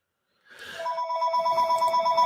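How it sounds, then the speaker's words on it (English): A telephone rings nearby with a bright, steady trilling tone after a brief rustle, continuing without a break. "my phone is ringing."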